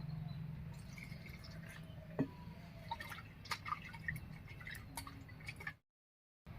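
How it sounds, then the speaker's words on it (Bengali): Betel leaf stalks washed in water give faint drips, small splashes and trickles, scattered and close, before a brief silence. "এবার একটু জল দিয়ে পরিষ্কার করে ধুয়ে নেব"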